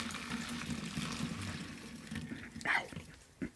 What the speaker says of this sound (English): you are going to dump boiling water into here